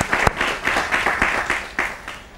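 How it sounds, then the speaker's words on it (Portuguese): Audience applause for a guest at a live technology innovation talk in Mozambique: a small crowd claps in a steady, moderately loud patter with individual claps standing out, fairly close. "Uma salva de palmas ao nosso convidado."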